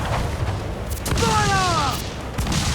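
Ship cannons firing in Assassin's Creed IV Black Flag, deep rumbling booms over a steady roar of wind and sea, while a voice shouts orders.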